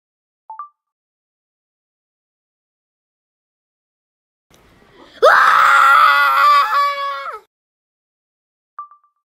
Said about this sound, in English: that's my cousin just screaming like crazy